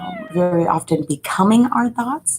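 A pet cat meows during a virtual meditation session, a few rising cries mixed in with a woman's steady, calm talking.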